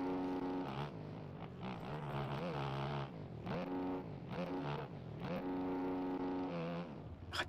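A dirt bike engine in a supercross video game drops a gear and revs hard, its buzzing note sliding up and down in several surges, with a voice faintly under it.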